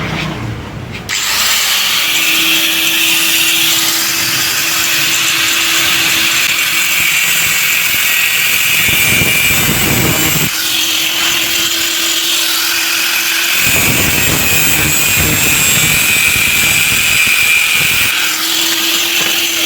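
A power tool cuts through the AC pipes of a CNG auto-rickshaw with loud, harsh whirring and grinding, running in long bursts broken by a few brief pauses, up close and without voices.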